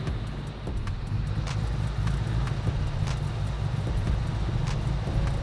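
A Toyota Innova drives along with a steady low engine rumble and road noise, with occasional clicks and knocks from inside the cabin.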